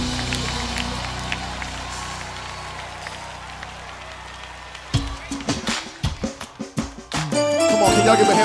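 At a live gospel recording in Houston Arena Theatre, a congregation's murmur gives way to bursts of loud rhythmic hand clapping in praise, before music and voices swell at the end.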